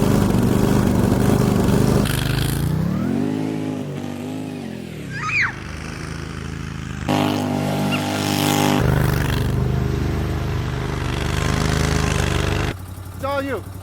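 An ARGOS amphibious vehicle's engine runs steadily as it drives, its droning, shifting note rising and dipping, with people talking loudly over it throughout.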